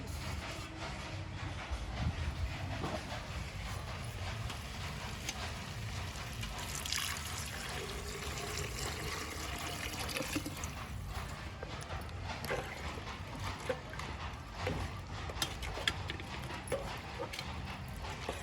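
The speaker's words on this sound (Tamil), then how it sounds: "தண்ணி ஊற்றலாம்." Pre-measured water poured into a pot of vegetable biryani with cooked vegetables, a steady, fairly loud rushing splash that runs unbroken for most of the clip.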